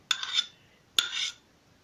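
A spoon scrapes and clinks twice against a pot while skimming foam off boiling blackcurrant jam, two short metallic strokes close by with quiet pauses between.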